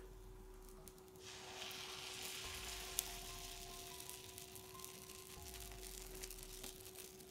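Pancake batter sizzles steadily in a hot pan, a soft, even frying hiss with faint crackles that thickens after the first second and carries on at low volume without talk.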